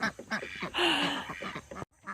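Ducks in a pen shared with goats quack loudly and close by, a flurry of harsh overlapping calls with one long raspy squawk in the middle before a brief silence.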